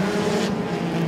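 Compact race cars at Moler Raceway Park roar steadily down the backstretch, a continuous close engine drone with no pause.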